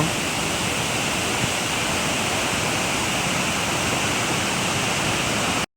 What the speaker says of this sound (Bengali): এলিফ্যান্ট ফলসের দ্বিতীয় ভাগ জঙ্গলের মধ্য থেকে স্টেপসের মধ্য দিয়ে আসছে জল জলধারা